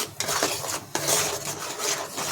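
Spices being stirred in a pan over low gas, the utensil scraping and rubbing steadily across the metal with a couple of short pauses, close and moderately loud, alone.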